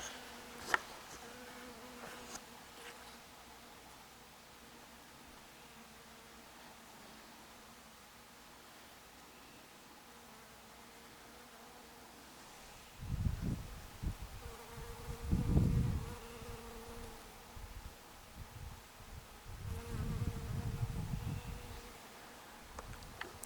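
Steady insect buzzing hums outdoors in a garden, with bees and bumblebees droning among flowers close by in louder passes that swell and fade over a soft background.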